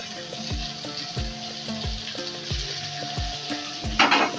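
Chopped tomatoes hit a pan of golden-browned onions for a coriander chicken curry, sizzling steadily up close with a bright spatter near the end, over a repeating rhythmic musical backing.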